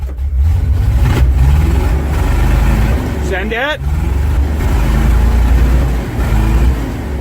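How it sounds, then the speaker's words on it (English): Old Ford F-600 truck engine roaring at a cold start in deep cold, a loud steady low rumble with a brief rising rev midway, a person speaking briefly over it. "fire up your old Ford"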